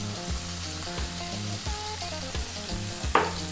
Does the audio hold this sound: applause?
no